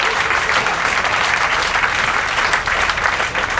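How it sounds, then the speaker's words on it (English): A banquet audience in Paris applauds a prize winner with loud, dense, sustained clapping that stays steady throughout, with no talk over it. "Applause!"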